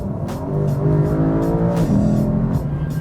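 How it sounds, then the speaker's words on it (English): A 2023 Lexus IS500 F Sport's naturally aspirated V8 revs loud and close, a rich harmonic engine note climbing steadily, dipping briefly near the middle, then pulling again. "Not only is the engine note a thing of beauty"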